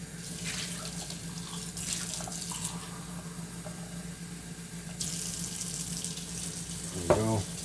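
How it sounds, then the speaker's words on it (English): Water runs from an RV faucet into a cup, coming out slightly bubbly; the flow hisses and splashes steadily up close, with a brief clatter near the end. "When you're running your faucet, you will notice that it's going to come out like a little bubbly and stuff."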